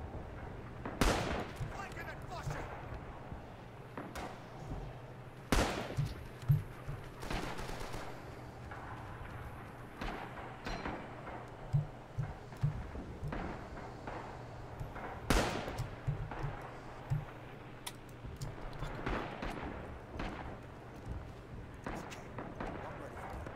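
Scattered gunfire from a World War II firefight in the Red Orchestra shooter, sharp cracks and short bursts spread irregularly across a noisy battlefield, some close and loud, others distant, with people talking throughout.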